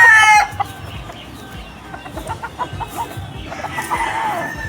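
A bulik gamefowl rooster clucks and calls at a gamefarm in Bacoor, Cavite, with other birds crowing and chattering around it in a busy, continuous farmyard chorus, no talk.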